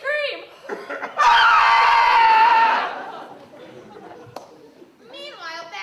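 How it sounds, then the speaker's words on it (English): A theatrical scream in a comic Seuss-style Romeo and Juliet performance: one loud, sustained shriek of about a second and a half, with voices and laughter-like sounds before and after it. "It's our turn to scream."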